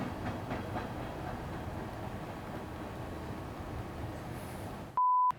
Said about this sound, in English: How many trains go by once you hit record?